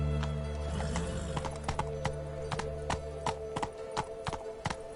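Hooves of Roach, the horse in The Witcher game, clip-clop in a steady rhythm over a low droning ambience, then turn into sharper, sparser isolated hoof strikes near the end; no talk.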